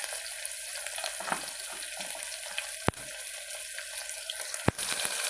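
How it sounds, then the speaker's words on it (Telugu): Tomato fries in oil with a soft, steady bubbling sizzle, interrupted by two sharp clicks or knocks. "సో వాటర్ బయటకు వచ్చాక ఆయిల్ వాటర్ ఓపెన్ అవుతాయి కాబట్టి బబుల్స్ అనేవి వస్తాయి బయటికి"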